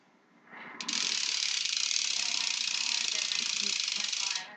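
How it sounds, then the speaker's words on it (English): A BMX bike's Colt Match rear hub freewheels in a fast, even ratchet buzz, close and clear against quiet surroundings, with a short lead-in before the steady clicking runs for several seconds and then stops. "Colt match hub. See if I can do a little sound."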